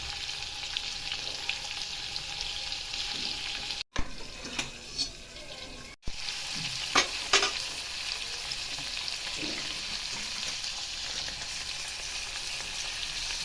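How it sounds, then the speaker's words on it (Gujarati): Chopped cucumber frying in hot oil, a steady broad sizzle running throughout with a few louder clatters of stirring near the middle, close and alone without talk. "તેલ ગરમ થઈ ગયું હોય તો તેમાં કાકડી એડ કરીશું કટિંગ કરી"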